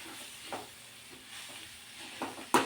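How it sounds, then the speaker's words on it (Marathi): Radish kharda steaming in a pan over a medium flame without added water, giving a soft, low sizzling hiss broken by a few sharp stirring scrapes, the last one louder near the end. "मध्यम आचेवर आपल्याला ही खरडा रेसिपी वाफवून घ्यायची आहे।"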